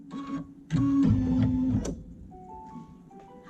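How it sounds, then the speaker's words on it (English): Embroidery machine finishing a multi-hooped design plays its completion signal: a short series of bright electronic beeps and tones, fairly close and clear, with machine hum underneath and a final rising chime at the end. "we should hear the happy noises of finished embroidery coming from McDreamy"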